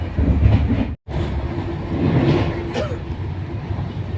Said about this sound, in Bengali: পুরী কামাখ্যার সাথে ক্রস হয়ে গেল।